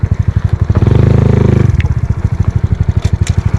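A Honda Wave 125i underbone motorcycle, bored to 143cc, revs hard at close range for a launch, its rapid engine pulses rising to a sustained high-rpm roar before dropping back to a choppy, popping idle.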